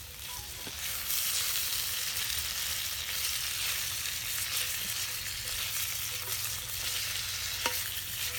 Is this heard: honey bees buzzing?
no